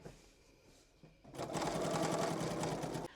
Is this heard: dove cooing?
no